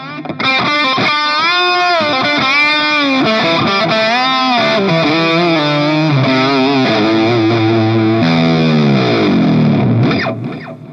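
Electric guitar played through an effects rack with delay and distortion, sustained melodic lines and bends ringing with echoing repeats, loud and close, ending in a descending swoop and a fade.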